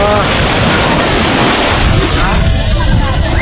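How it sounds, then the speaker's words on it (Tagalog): Strong ocean waves crash and surge at a beach in Lian, Batangas, a loud, continuous roar of surf mixed with heavy wind buffeting the microphone, with voices faintly in the mix. "Ayun, lakas ng alon guys."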